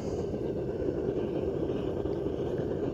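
A Devil Forge gas forge furnace burner roars steadily like a jet engine once air is let in: a loud, continuous, dense rushing noise with no breaks and no talking.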